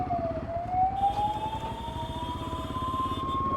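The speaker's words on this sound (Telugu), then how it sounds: "వెనకాల అంబులెన్స్ మొత్తుకుంటుంది" An ambulance siren wails behind a car stuck in city traffic, the steady rising tone sounding loud and close over the low rumble of engines.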